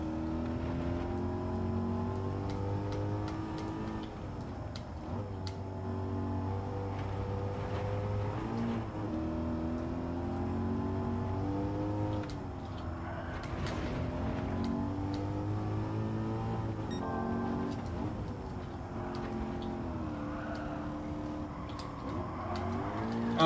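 A race car in Gran Turismo 7 accelerates during a night race played in VR. The engine note is continuous and loud, climbing and dropping in pitch through repeated gear changes over the full stretch, with no voices.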